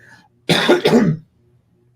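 A short burst of throat-clearing or a rough double cough from someone with the flu, close and loud, with near silence before and after.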